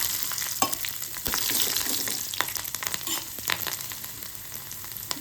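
Curry leaves and chilies sizzle and crackle steadily in hot oil as a tempering, with scattered sharp pops and a bit of stirring throughout.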